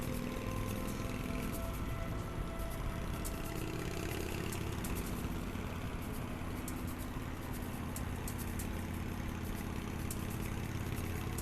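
A steady, loud engine drone in the video game The Path idles and rumbles without a break, low and mid tones churning together the whole time.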